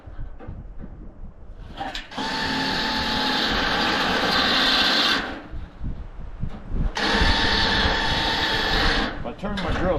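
A power drill bores into a scrapped ice maker in two loud sustained bursts, each lasting about three seconds, with a brief pause between them and softer clattering before and between.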